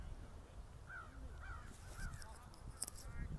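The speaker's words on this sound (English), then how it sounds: "Here's some crows barking." Crows cawing at a high school baseball game outdoors, three or four faint, distant calls over the low field ambience, with a brief clatter near the end.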